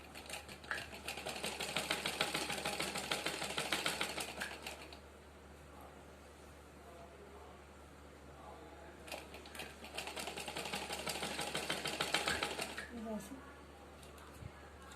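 A sewing machine stitches suit fabric in two bursts of rapid, rattling needle strokes, about four seconds each, separated by a quieter pause, with a voice talking over parts of it.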